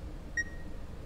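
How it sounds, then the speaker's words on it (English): A single short electronic beep sounds, thin and fairly clear, inside an animal carcass hung up outdoors, against a low ambient rumble. "Wait, that beeping. It's as if it's coming from the inside."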